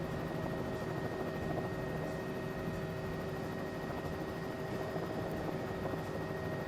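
Steady helicopter rotor and turbine drone from Microsoft Flight Simulator 2024 on a shallow approach into Princeville, a constant broadband whine with tonal hum, continuous and fairly loud with no talk.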